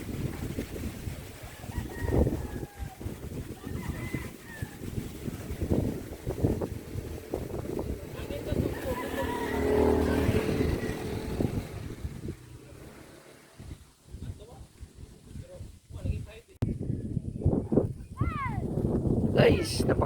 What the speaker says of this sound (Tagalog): Napakalakas ng hangin guys.